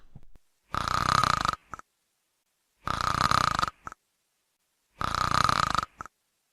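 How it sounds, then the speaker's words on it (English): Three loud snoring bursts repeat at an even pace, each a rough, grumbling snore about a second long that ends in a short snort, with silent gaps between them. "grumbly sound that started almost gently and then just kept getting louder and louder until there was a really loud, cracking, snorting sound"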